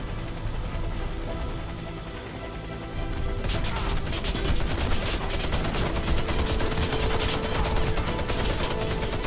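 Dense in-game gunfire from the free-to-play shooter Warface as an evacuation round ends, a steady wall of rapid automatic shots and impacts that thickens after a quieter opening few seconds, with no talk.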